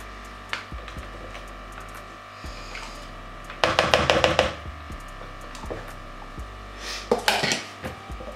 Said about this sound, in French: on met 250 g de mascarpone dedans pour mélanger aussi